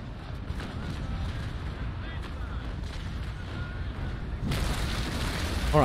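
Broadside of ship cannons fired from the lower decks of a sailing warship in Naval Action, a dense rolling roar of booms that swells louder near the end, with voices talking over it.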